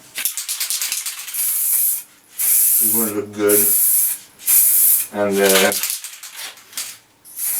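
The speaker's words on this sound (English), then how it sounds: "prefer spray painting because it's the easiest and gets quite a good result" Repeated bursts of aerosol spray paint hissing close by onto a PVC bow, each lasting about a second with short pauses between, while a person speaks briefly in between bursts.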